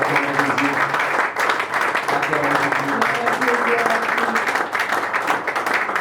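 A church congregation bursts into sustained applause for Jesus, dense clapping that is loud and continuous for several seconds, with voices mixed in beneath it.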